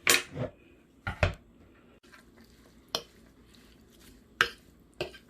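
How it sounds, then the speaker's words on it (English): A utensil scrapes and clinks against a bowl while chopped apples and cranberries are stirred into a kale salad, giving a handful of scattered, fairly quiet clacks separated by pauses, with no talking. "And now I'm going to put my cranberries in here. I'm going to mix it in."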